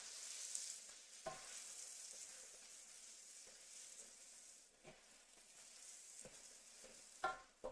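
Groundnut stew bubbles and sizzles in a pot on the stove, a soft steady frying hiss broken by a few faint clinks and scrapes of stirring, quiet and close.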